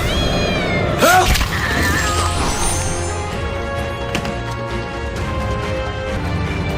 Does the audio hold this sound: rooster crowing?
no